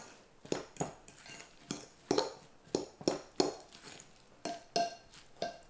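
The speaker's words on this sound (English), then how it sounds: "And then we'll stir that around, see if we need more." A utensil stirring sauce in a container makes repeated knocks and scrapes in an irregular rhythm, faint and close, with no talking.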